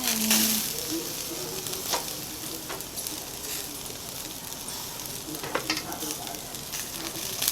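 Chicken sizzles on a Filipino ihaw-ihaw grill and is flipped over, producing a continuous crackling hiss with a few scattered clicks and knocks from turning the pieces.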